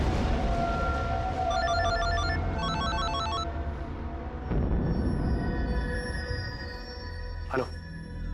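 A telephone rings with a repeated electronic bell-like trill in two bursts over a busy, loud indoor scene in a Hindi crime drama, with other sounds continuing after the ringing stops.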